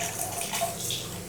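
Water spilling from a tilted kitchen container as it empties, a steady close splashing trickle that runs alone without pause for the whole short stretch.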